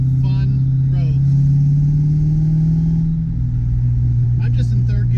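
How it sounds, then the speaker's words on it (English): A 1992 Ford Mustang GT V8 cruising in third gear on a Tennessee road, a steady loud engine drone that dips slightly partway through, with a person talking over it. "I'm just in third gear cruising"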